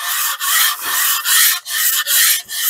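The cast iron sole of a Stanley 5 1/2 hand plane is pushed back and forth over 80 grit sandpaper, giving six loud, close rasping strokes in an even rhythm with brief gaps between them.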